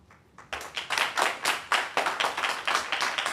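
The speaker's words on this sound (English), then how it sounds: "Is there a reason why they're still clapping?" Audience at a school meeting clapping in unison, a loud rhythmic series of sharp claps in a regular beat after a brief quiet start.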